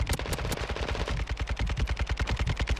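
An MP5 submachine gun in a shooter video game fires in rapid, evenly spaced automatic bursts, a loud, close, continuous stream of sharp shots with no talking over it.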